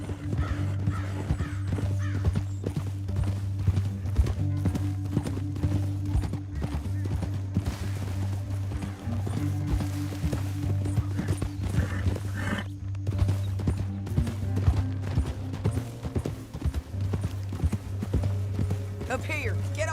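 Several horses ride at a steady clip-clop through a canyon in Red Dead Redemption 2, hooves close and continuous under a low droning score, with characters talking over them and a faint whinny at times.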